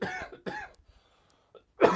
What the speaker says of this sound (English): Let me just quickly do a little bit of a cough over here.